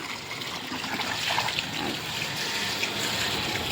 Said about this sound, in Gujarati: કેટલું મસ્ત પાણી આમ તો જો